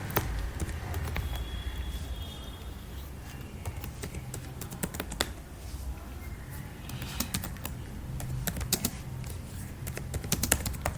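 Fingers type test code on a computer keyboard in quick, uneven bursts of close, crisp key clicks, with short pauses between runs.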